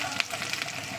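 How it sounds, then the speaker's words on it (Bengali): Chillies and garlic fry in very hot oil, a faint continuous crackling sizzle with a few sharper pops scattered through it. "একটু লালি করে ভেজে দেবো"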